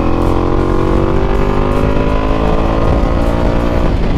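Ducati Multistrada V4S motorcycle exhaust revving loudly and close by, a steady rising engine roar held for about four seconds with no talk over it.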